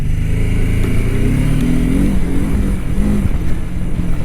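A BMW F450GS motorcycle on stock tyres rides over a rough, broken road, its engine droning steadily and loud with small rises in revs and bumps throughout, no voices.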